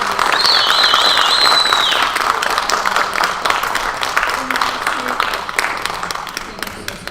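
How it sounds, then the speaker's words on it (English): Applause from the audience at a Tri Alpha honor society induction ceremony, a dense wash of clapping that fills the room loudly and stays steady before easing slightly toward the end. "let's give them one more round of applause"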